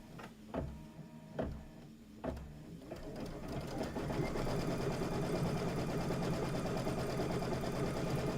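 A few sharp knocks open the sound, then a machine settles into steady, rapid whirring as it tack-down stitches a Kimberbell table topper. The whirring continues unbroken to the end, with no voices.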